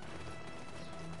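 Horse hooves clip-clop in Black Desert Online, a brief, busy patter of steps under dense game ambience, close and fairly loud throughout.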